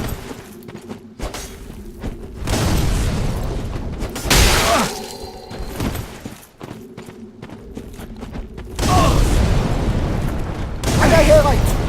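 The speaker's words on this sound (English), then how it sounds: "Stop throwing bombs" Bombs exploding in the video game Dark Souls 3, with several loud, booming bursts around the middle and near the end, mixed with game clatter and clashing.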